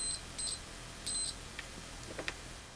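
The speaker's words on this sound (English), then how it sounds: "you can see we do have some scratchy sound, but nevertheless, you are able to test continuity pretty accurately here" Multimeter continuity tester on a ToolTop ET75 process meter gives several short high beeps, some broken and crackly from a scratchy probe contact, with faint clicks between them at moderate volume.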